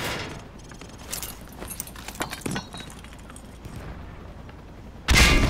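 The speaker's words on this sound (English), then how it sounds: "Toss the grenade down the range to take out several targets at once" Sharp bursts and cracks from frag grenades going off down a training range in Call of Duty: Modern Warfare 2, several scattered detonations with debris, then a loud blast near the end.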